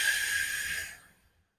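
One long, breathy exhale through the mouth during a hooklying breathing exercise on a foam roller, a close, soft hiss that fades out to silence after about a second.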